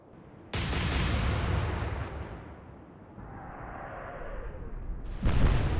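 Warship guns fire blind through a smokescreen in the naval video game Atlantic Fleet, Royal Navy side: a sudden loud boom with a long rumbling decay and a whistling shell, then a second heavy blast near the end, with no talking.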